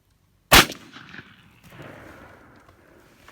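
A 20 gauge over-under shotgun fires a single loud, close blast that rolls off into a fading outdoor echo, with nothing before it but silence.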